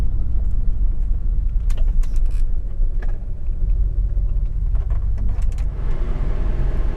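A Ford F-150 pickup truck driving, a loud steady low engine and road rumble from inside the cab with faint rattles and clicks, continuous throughout with no talk.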